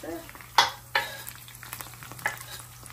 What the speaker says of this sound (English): This is the proper way to put garlic inside of the frying pan.